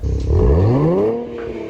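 Nissan Z engine revving hard up close, a loud rising rasp that climbs in pitch over about a second and then eases off.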